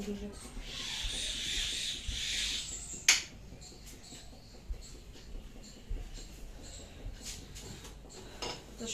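A small stack of household dishes is picked up and carried downstairs, giving faint, scattered clinks and light rattles with one sharper clatter partway through, against a quiet room.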